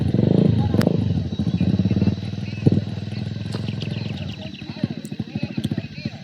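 A motorcycle engine running close by, a loud throbbing putter that fades and then rises again in choppy bursts, with voices talking over it.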